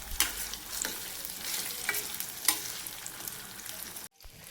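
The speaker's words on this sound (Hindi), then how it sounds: "अब हल्दी को फ्राई करूँगी।" Fresh turmeric sizzling in hot ghee in a pan, a steady close hiss with a few sharper crackles and stirring scrapes, cutting off abruptly at the end.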